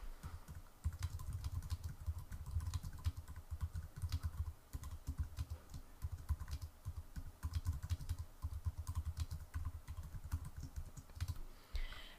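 Steady typing on a computer keyboard, a brisk run of clicky keystrokes with short pauses, close and clear over a low background hum.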